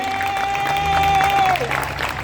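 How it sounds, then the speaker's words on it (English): Crowd applause at an outdoor rally, a dense patter of clapping, with a voice speaking over it and a sustained tone running through. "You deserve your own round of applause for coming to this and standing up."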